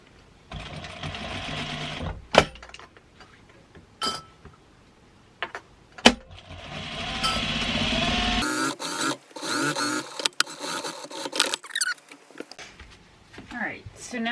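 A sewing machine stitches pet hammock fabric in several bursts of fast mechanical whirring separated by pauses, clicks and handling noises, close and fairly loud.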